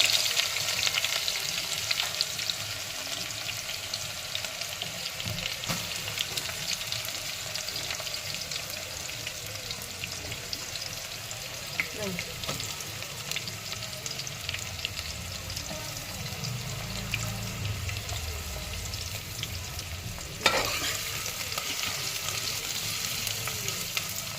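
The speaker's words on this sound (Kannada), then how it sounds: "ಇವಾಗ ಈರುಳ್ಳಿ ಹಾಕ್ತಾಯಿದ್ದೀನಿ" Onions frying in ghee and oil for mutton sambar: a steady, close crackling sizzle runs throughout, with occasional stirring scrapes and a sharper clatter near the end, and no talk.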